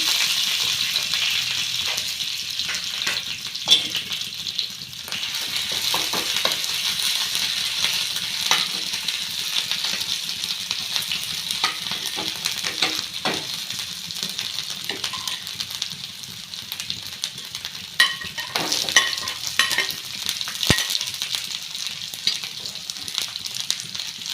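Curry leaves and ginger garlic paste frying in hot oil with mustard seeds for a Kerala-style chicken curry, a steady close sizzle with scattered pops and spatters throughout, no voices.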